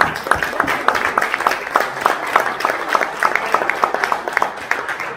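Audience applause at a public reading and meeting in a garage venue, many hands clapping in a dense, steady patter close by, continuing evenly for several seconds.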